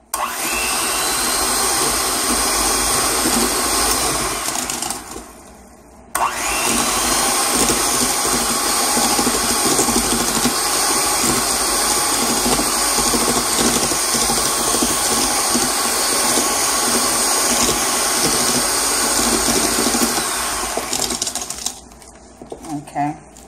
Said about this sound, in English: If not, you can definitely use just a handheld mixer.